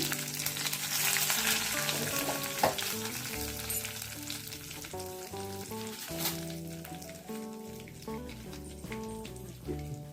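Steady sizzling and crackling of mustard seeds and dried red chillies frying in hot oil for a tempering, continuous and close, with tonal music playing underneath.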